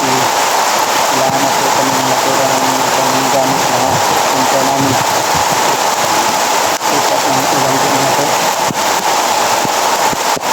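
A dense, loud hiss of rain falls steadily throughout, with a voice talking faintly underneath the downpour.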